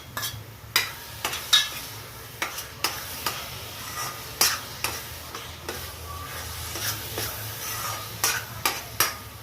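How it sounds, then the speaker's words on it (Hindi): Carrot halwa cooks in ghee with fried almonds and cashews added, and a spoon stirs it in a steady rhythm of clear scraping knocks against the pot over a low sizzle, with no voices. "इसको तब तक पकाएंगे जब तक घी हमारा सेपरेट नहीं हो जाता"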